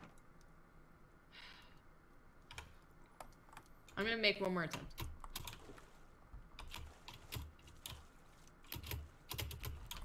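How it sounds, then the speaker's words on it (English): Loud mechanical keyboard keys clatter in irregular bursts during a Raft gaming session, with a voice talking over part of it and a short game sound in the middle. "Oh my god, your keyboard is so loud. It's a mechanical keyboard!"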